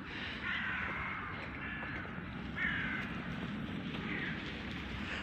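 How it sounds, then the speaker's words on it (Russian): Crows caw repeatedly in a few spaced bursts, heard at a moderate distance over a steady outdoor background hiss. "Вороны поют."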